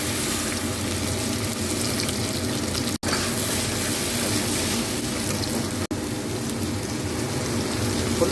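A paste of ginger, onion and garlic frying in hot oil produces a continuous hissing sizzle like rain on a surface, close and steady, broken by two brief dropouts.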